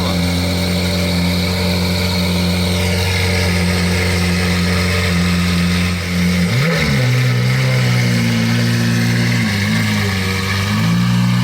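Sports car idling with its exhaust valve closed and a gold muffler, a steady deep burble that swells with a short throttle blip midway and a smaller one later, close and loud.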